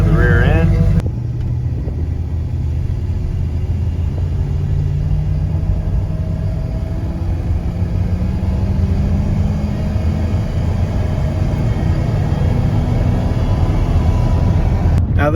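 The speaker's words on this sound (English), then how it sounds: "This truck sounds much better, but but it does have exhaust and is the bigger motor." A deep, steady exhaust rumble from a second-generation Dodge pickup's 5.9 Magnum V8 with aftermarket exhaust idles low and continuous, with a brief burst of talking at the very start.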